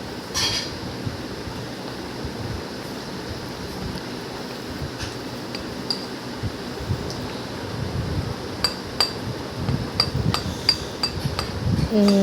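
A spoon stirs paneer pasinda batter in a bowl, giving irregular metallic clinks and scraping taps over a steady low background rumble. The clinks grow more frequent toward the end.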